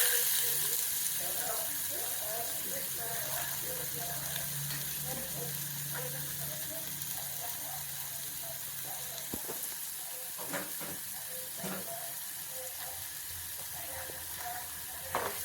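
A cup of finely chopped onions sautéing in a pan, a continuous soft frying hiss with occasional light stirring clicks, steady and moderately quiet throughout.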